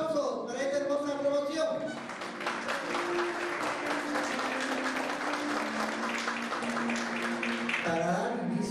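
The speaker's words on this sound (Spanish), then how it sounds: "¡Fuertes aplausos!" An audience at a school graduation ceremony for a 2022 class in Los Olivos, Lima, breaks into sustained, even applause after a brief announcement, with some voices and background tones under the clapping.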